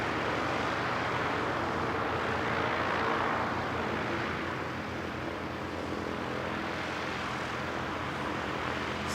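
Propeller aircraft, including ZK-NAC, run their engines at an aero club in a dense, continuous drone with a steady low thrum. The sound is fairly loud and constant, with slight swells as the blend of engines shifts.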